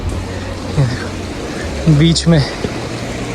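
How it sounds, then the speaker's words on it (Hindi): A mountain stream in the Parvati Valley near Tosh flows in a steady broadband rush, partly masked by someone speaking over it. "पानी की धारा।"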